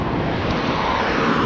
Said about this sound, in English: It's just really cool because it's such a loud noise and it's such a cool plane, such a cool jet.